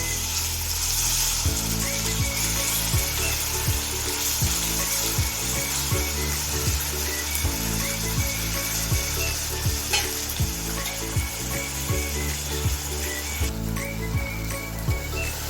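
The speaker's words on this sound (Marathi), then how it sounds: "टोमॅटो पण चांगले आपल्याला याच्यामध्ये परतून घ्यायचे" Tomatoes being sautéed in a pan for Malvani chicken sukka, a continuous hissing sizzle with repeated rhythmic scraping strokes of a spoon stirring, close and loud, no talking.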